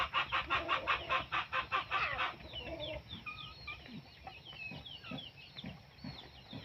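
Chickens cluck close by: a fast, loud, rhythmic run of clucks gives way to softer, scattered calls and chirps, with no talking.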